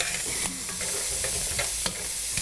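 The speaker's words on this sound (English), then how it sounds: "we're not going to do anything but deglaze this momentarily with the brandy" Brandy hits a hot pan used to cook chicken and sizzles in a loud, steady hiss, with stirring scrapes and a few sharp clicks of a utensil against the pan, close up and without talk.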